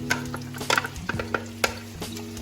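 Tomato coulis is poured onto browned onions frying in a pan, sizzling under a steady hum, with scattered clinks and scrapes of a utensil against the pan.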